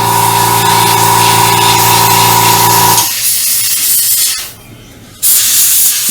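An airbrush hisses steadily while spraying paint onto a StuG III Ausf G scale model, then cuts off midway, leaving a quiet pause before a short burst of air resumes.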